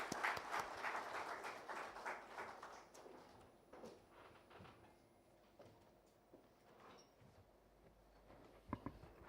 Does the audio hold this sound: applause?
yes